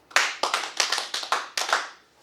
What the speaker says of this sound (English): Clap your hands for 5 times.